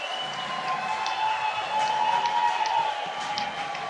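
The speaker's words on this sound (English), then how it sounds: "Listen to this crowd." A baseball crowd at an Intercounty Baseball League finals game between Toronto and London cheers and applauds in a sustained roar after a run scores, with whistles cutting through the broad crowd wash.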